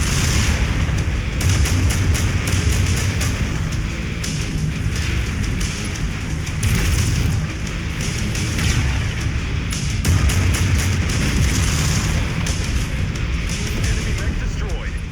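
An enemy mech blows apart in the Mechwarrior 5 VR campaign amid constant heavy weapon fire. Dense, loud booms and rumbling blasts run without a break, with voice chatter mixed into the din.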